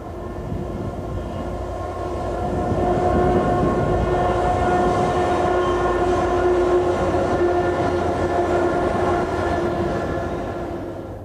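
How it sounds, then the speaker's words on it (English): An ATSF eastbound freight train rolls downgrade toward Flagstaff on the Arizona main line, a steady close rumble of wheels and cars with sustained tonal squeal from the rails throughout. "an eastbound train slips down grade toward town."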